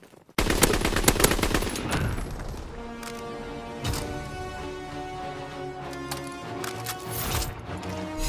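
Rapid machine-gun bursts from a strafing fighter aircraft in a search-and-destroy video game, starting loud with dense rattling fire, then continuing as a steady layered din with sharp impacts scattered throughout.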